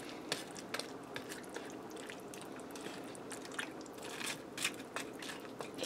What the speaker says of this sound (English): I can hear this starting to come up to the boil.